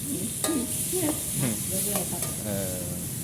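Pad thai is stir-fried in a wok at a street-side made-to-order food stall, with a steady loud sizzle under repeated scraping strokes of a spatula and faint talk in the background.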